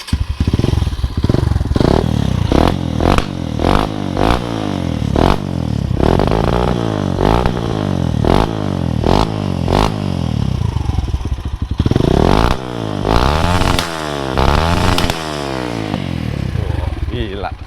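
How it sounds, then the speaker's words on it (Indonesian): Kawasaki KLX trail motorcycle with a special engine revved hard in a long series of quick throttle blips, each rising and falling sharply, loud and close with rattling clatter, while people talk over it. "Digas dikit brum brum brum."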